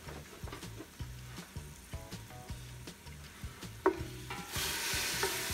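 Diced onions sweat in a pan while a wooden utensil stirs them, rhythmic scraping taps over a soft sizzle, close and clear, with the frying growing louder toward the end and no talk.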